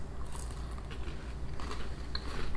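Someone bites into a crispy hazelnut wafer biscuit with a creamy center, producing a few brittle crunches and crackles up close over a steady room hum, with no talk.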